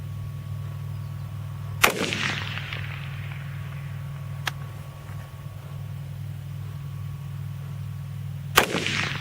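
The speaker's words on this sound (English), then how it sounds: "we're going to shoot this 223 out of the Tavor and see what kind of impact it makes on the steel at a closer distance" Two sharp .223 rifle shots from a Tavor, fired at a steel target at close distance on an outdoor range, crack loudly several seconds apart over a steady low hum, each with a brief ringing tail.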